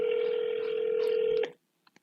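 A telephone line carries a steady, loud dial tone for about a second and a half before it cuts off abruptly. Two faint clicks follow in near silence as a call to order food is placed.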